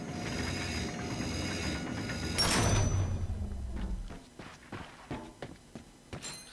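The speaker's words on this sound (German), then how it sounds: "Ich mach mal die Tür auf." A heavy sci-fi door in Ratchet & Clank slides open with a loud mechanical whoosh and rumble, followed by a series of faint clicks and footstep-like taps in a quieter space.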